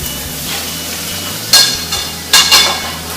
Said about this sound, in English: We're going to render the fat from that bacon